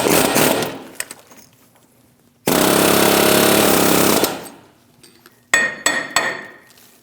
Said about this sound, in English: we're going to take an air hammer, and we're going to go on one of the ears, or right under it.